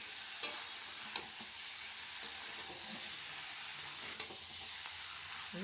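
Prawns, potato and jackfruit frying in spices in a pan, a steady bright sizzle with occasional soft clicks of stirring, close and continuous with no talking.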